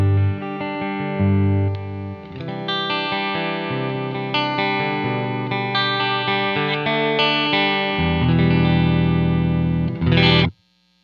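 A Quad Cortex guitar amp with a cabinet added plays smoother, warmer distorted chords, sustained and loud almost throughout before ending abruptly.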